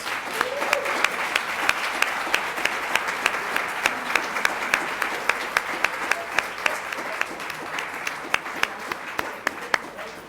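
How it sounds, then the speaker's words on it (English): Audience applause fills the room as a steady wash of many clapping hands, with sharper individual claps standing out throughout. "Let's give them a round of applause."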